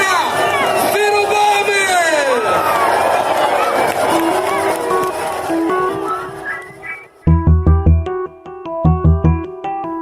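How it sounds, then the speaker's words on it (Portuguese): A large political crowd boos and jeers Ciro Gomes, the former Ceará governor, with loud, close shouting and rising-and-falling howls, then turns into rhythmic bursts of loud, tonal chanting or horn blasts. "As vaias e xingamentos contra Ciro"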